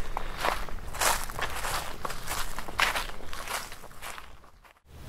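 Steady footsteps crunch through dry leaf litter on a Kentucky hardwood ridge during spring turkey hunting, a continuous close walking rhythm that stops briefly near the end, with no talking.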